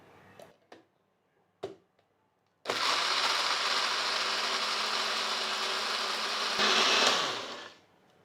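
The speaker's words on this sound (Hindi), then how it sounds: "तो यहाँ भी हम ग्राइंड वाला ब्लेड इस्तेमाल करेंगे क्योंकि हम चटनी को ग्राइंड करना चाहते हैं" An AGARO three-jar blender fitted with its grinding blade whirs loudly and steadily as it grinds chutney, running about five seconds after a few light knocks, then rising briefly in pitch before spinning down to silence.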